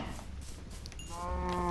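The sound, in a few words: cows mooing in Minecraft video game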